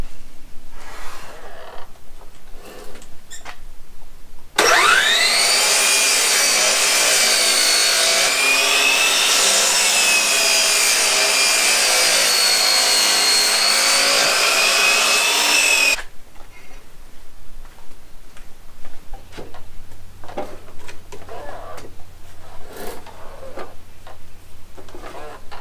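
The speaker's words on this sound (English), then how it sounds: "run my sander over it and just round those edges back over just a little bit on these top edges" Electric sander running over the top edges of wooden farmhouse table boards to round them, a loud steady whirring band lasting about eleven seconds, with quieter workshop noise before and after.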